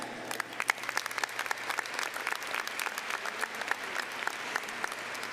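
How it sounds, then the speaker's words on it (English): An audience at a high school graduation ceremony applauds the Superintendent's Cabinet with continuous, evenly spread clapping heard from a moderate distance and a faint crowd murmur. "A round of applause for our Superintendent's Cabinet."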